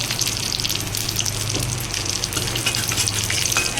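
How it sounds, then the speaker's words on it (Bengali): Mustard seeds and chillies tempering in hot oil for a Bengali okra dish, giving a steady close hiss and crackle of sizzling throughout, with no talking. "সর্ষে ফোড়ন দিয়ে দিলাম, লঙ্কা ফোড়ন দিয়ে দিলাম।"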